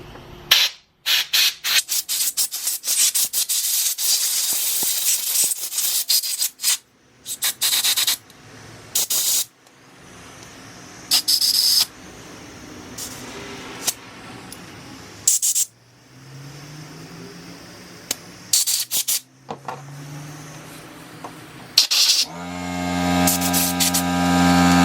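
A free high-pressure fire pump is blown clean with compressed air, with repeated hissing blasts of varying length starting and stopping close by, and a rising mechanical whine building near the end.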